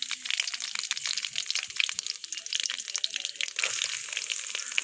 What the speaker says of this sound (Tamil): கடுகு போட்டுட்டு, கடுகு பொரிஞ்சதுக்கப்புறம் கருவேப்பிலை போட்டுக்கலாம்.